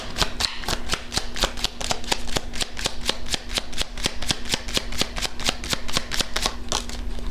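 Tarot cards being shuffled by hand, a rapid, steady run of crisp riffling clicks close to the mic, continuing without pause.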